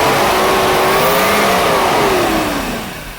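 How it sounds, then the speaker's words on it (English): Mercedes W124 300E with the M103 inline-six revs up loud and close, the engine pitch climbing and then falling away as the revs drop off and the sound fades. "If I do it slowly, yes, it revs."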